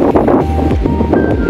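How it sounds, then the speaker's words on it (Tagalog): Strong storm wind roars and buffets the microphone continuously during kite flying, a loud low rumble with gusty swells throughout. "lakas ng hangin mga kagoys"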